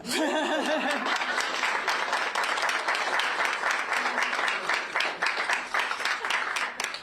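Applause from an audience at a Boston event on early childhood education, a dense steady wash of clapping for about seven seconds with a few chuckles mixed in, moderately near and fairly loud.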